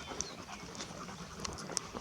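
A dog pants quickly and steadily close to the microphone, its breath rough and airy, with a few faint clicks and rustles mixed in. The dog is outdoors on the way to a cave.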